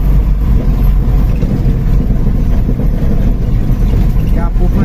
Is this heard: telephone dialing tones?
no